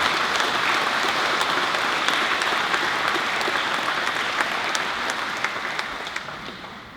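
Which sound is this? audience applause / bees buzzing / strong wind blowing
audience applause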